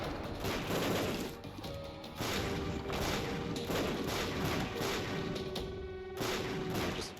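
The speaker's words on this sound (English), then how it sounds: "We're just full-on firing mortars now" Mortar fire and explosions in a roguelike video game, a dense, continuous barrage of booms and crashes with a steady sustained tone running beneath, loud throughout with no pauses.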